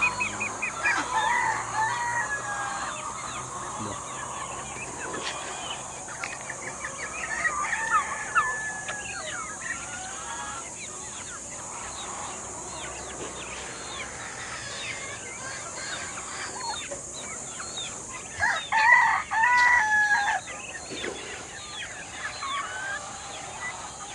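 Backyard farm turkeys, chickens and ducks at feeding time: a rooster crows loudly several times, with clucking and other fowl calls throughout over a steady outdoor hum. The crowing rises strongest near the end.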